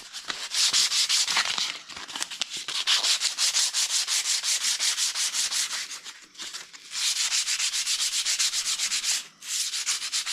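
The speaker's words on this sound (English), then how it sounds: "let's sand this a little and look at it" Sander buffing a MIG weld on a Huffy bicycle brake tab, a loud continuous rasping rub in long passes broken by brief pauses, close up with no talking.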